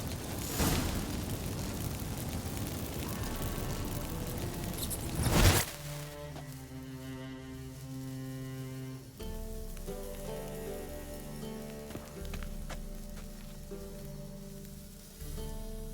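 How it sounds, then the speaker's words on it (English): Magic fireworks set off by activating incense in The Witcher 3: a dense, hissing crackle sizzles for several seconds and ends in a sharp bright burst, after which tonal game music takes over. "Get ready for some magic fireworks. Once I activate the incense, we'll have a moment to talk."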